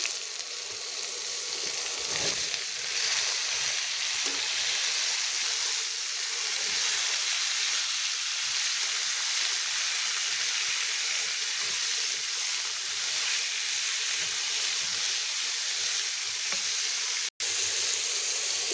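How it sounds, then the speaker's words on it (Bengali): Sliced cucumbers tipped into hot oil with fried whole spices give a loud, steady sizzle that hisses on without pause, close to the pan. "ফোড়নটা ভাজা হয়ে গেছে, এবার দিয়ে দিচ্ছি শশাগুলো।"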